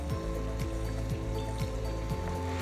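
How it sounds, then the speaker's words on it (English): Water flows through a gold sluice carrying paydirt in a steady, close rushing wash, with a low pulsing hum that repeatedly sags and recovers in pitch underneath. "adjust the water speed based on the size of your material as well as the angle of the sluice"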